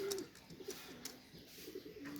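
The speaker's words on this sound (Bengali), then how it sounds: "কাচুরি কবুতর" Soft, low coos from Kachuri pigeons repeat a few times at a moderate distance, with faint bird chatter and light background noise.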